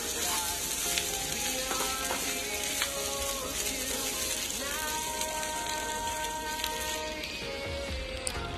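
Chicken feet fry in a little oil and are stirred, a dense, close, crackling sizzle that runs without a break, with occasional scrapes of the spoon and no voices.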